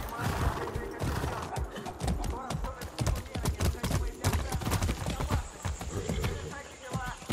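Hooves clip-clop in an uneven rhythm with a horse whinnying and snorting, voices talking over it, crisp game audio from Far Cry 6.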